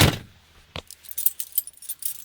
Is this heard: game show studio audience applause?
no